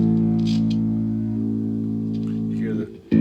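A single sustained note played on a bass guitar rings out with a rich harmonic tone, slightly effected, then decays and cuts off near the end with a brief clack.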